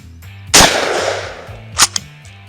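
A 3-inch Magnum shotgun shell goes off from a KelTec KSG, one loud, close blast with a ringing tail, followed by a short mechanical clack of the action.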